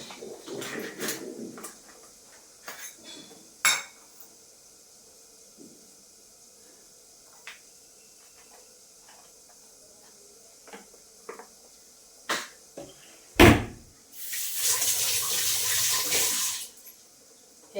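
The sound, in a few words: washing dishes in the kitchen sink with running water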